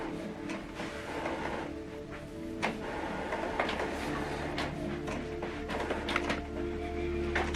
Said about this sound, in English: So now this document is going to print colored and a single page.